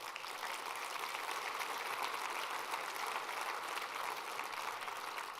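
An audience at a campus energy conference plenary claps together in sustained, even applause, a dense patter of many hands that stays level throughout.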